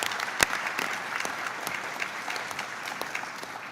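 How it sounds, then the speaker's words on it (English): Moderate applause from an audience at an event for a cancer detection bill, a crowd clapping steadily with one sharp louder clap near the start, somewhat distant and even. "How about y'all just raise your hands so we can give y'all a round of applause for your support"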